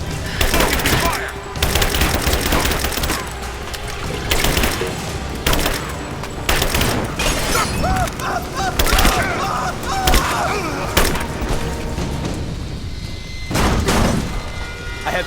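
Rise of the Tomb Raider gunfire crackles through a combat firefight: loud bursts of automatic rifle fire and booming shots repeat in clusters, with shouted voices and battle noise layered between volleys.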